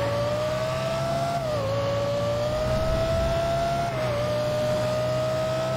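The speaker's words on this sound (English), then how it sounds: "this exhaust, man, is in right in my ear" Exhaust of a tuned Lexus LFA heard from close by, a loud, steady high-pitched engine wail that holds its note with slight dips as the revs shift, continuous throughout with no talking.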